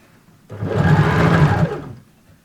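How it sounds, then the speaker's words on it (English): A sewing machine stitches down the seam allowance on a pleated cloth face mask, a steady mechanical whir running for about a second and a half, close and fairly loud, with no one speaking. "You're going to sew the seam allowance down."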